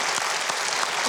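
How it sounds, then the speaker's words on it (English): An audience claps together for a short burst of dense, loud, even applause with no gaps. "Now you can clap because that's hard to do."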